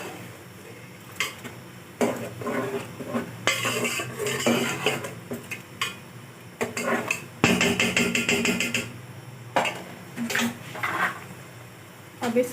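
Chopped tomatoes go into a cooking pot of shalgam palak gosht, a beef, spinach and turnip curry. A spoon clatters and scrapes against the metal in loud bursts with pauses between the stirs.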